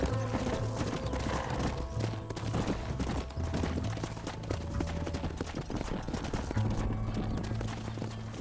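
Hooves clip-clop in a fast, steady rhythm as horses gallop in Red Dead Redemption, mid-loud and continuous over a low game soundscape, with faint crackles like distant gunfire.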